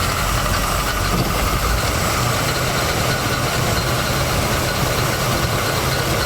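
A 1979 Chevy G20 custom van idles as it runs again after 35 years: a loud, steady, low rumbling engine drone with a faint rhythmic knock, close up and continuous.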